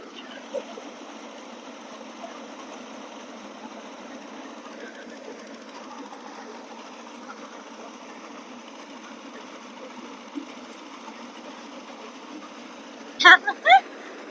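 A Thai rice threshing machine runs in a paddy field during the first harvest of the year, a steady mechanical drone with a couple of sharp knocks near the end, while voices talk faintly beneath it.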